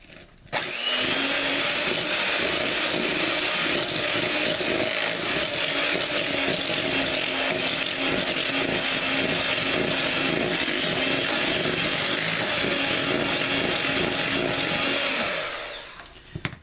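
Red velvet cake batter being beaten with an electric mixer after a cup of sugar goes in, a loud steady whirring drone that runs unbroken for about fifteen seconds before cutting off, with no talking over it.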